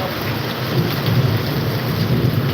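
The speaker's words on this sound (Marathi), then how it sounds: "पाऊस काय थांबायचं नाव घेत नाही कंटिन्यू असं पाऊस चालू आहे" Heavy monsoon rain in Latur roars steadily with deep rolling thunder rumbling underneath, loud and close, with no voices.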